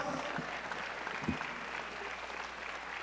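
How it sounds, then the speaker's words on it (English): A commencement crowd at a high school graduation ceremony applauding the superintendent, a faint, distant, continuous patter of clapping with low hum underneath. "Let's give our superintendent another round of applause."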